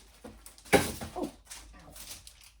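A dog whimpering softly after being woken in a home office at night, in a few brief whines and yips nearby, with a faint thump among them.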